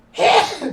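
A single sharp sneeze, close and loud, bursting out briefly on its own with a short trailing breath.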